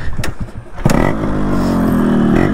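A Yamaha RX motorcycle's two-stroke engine fires up after a few clicks and rattles, then settles into a loud, steady, throbbing idle close by.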